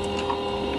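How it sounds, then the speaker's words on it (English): A sewing machine stitches a quarter-inch seam in fabric scraps as the fabric feeds through. It gives a brief, steady, close mechanical whir with no speech. "Let the machine pull the fabric through."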